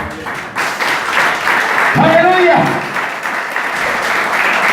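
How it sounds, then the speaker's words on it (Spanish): Church congregation applauding during an evangelical sermon, a broad wash of clapping rising and holding steady while a voice calls out briefly over it. "Un fuerte aplauso al Señor."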